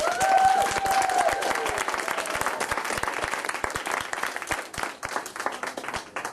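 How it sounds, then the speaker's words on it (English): Applause from families at a kindergarten end-of-year performance, a full crowd clapping steadily, with a few light cheers early on, gradually thinning toward the end. "One big round of applause for our future workers."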